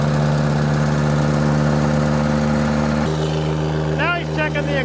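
A turbocharged John Deere 1025R compact tractor engine runs on a dynamometer, a loud, steady droning hum with a slight pitch change partway through, and a voice briefly heard near the end.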